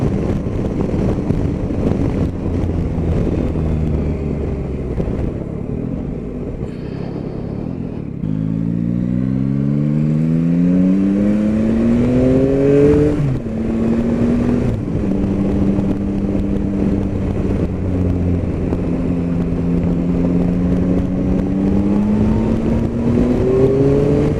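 A Yamaha Tracer 9 motorcycle's engine rises and falls through repeated revving gear changes on a test ride, loud and close, with steady wind rush around it and no voices.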